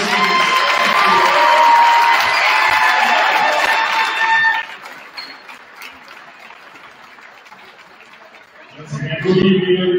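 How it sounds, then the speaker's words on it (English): Crowd at a high school varsity basketball game in a gym, cheering and clapping loudly for several seconds before fading to a quieter murmur, then a brief burst of noise returns near the end. "One last round of applause for our four seniors."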